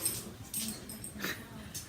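A small puppy whimpers and yips in several short, high, thin cries, fairly close, against a quiet indoor background.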